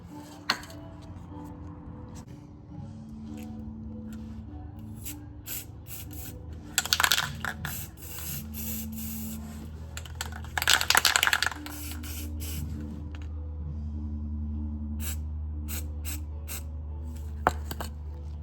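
Brake parts for a Dana 60 axle being spray painted black from an aerosol can, a long steady hiss broken by several short louder bursts and a few light metallic clinks, close and with no talking.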